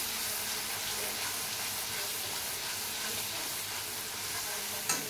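A paste of cumin, ginger and garlic with salt added cooks in a pan, making a continuous soft sizzle with faint stirring throughout and a small knock near the end.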